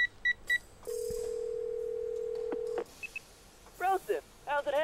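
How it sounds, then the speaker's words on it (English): A mobile phone dials a number: a few quick keypad beeps, then one long steady tone, followed by a short burst of tones and voices speaking briefly at the end. "I pull my phone and dial the first name that comes to mind."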